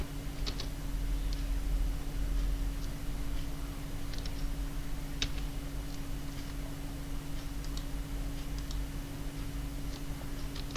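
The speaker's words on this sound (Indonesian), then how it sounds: "tombol tab lagi pada keyboard" A computer keyboard's tab key is pressed while typing in Microsoft Word, giving a scattering of light, separate clicks over a steady electrical hum, with no talking.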